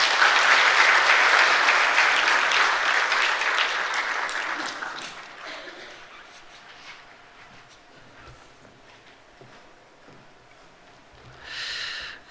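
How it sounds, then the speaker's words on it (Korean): A church congregation's applause rings out loud and dense during a worship service, then fades after about five seconds into quiet room noise with scattered soft sounds and a brief breathy burst near the end. "박수로 축하하겠습니다."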